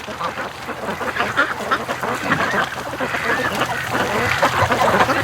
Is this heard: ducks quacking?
yes